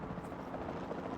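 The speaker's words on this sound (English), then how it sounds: "Then the sensible thing is to take a capture team helicopter." A capture team helicopter in the video game Jurassic World Evolution 2 gives off a faint, steady rotor drone with a continuous rumbling texture and no pauses.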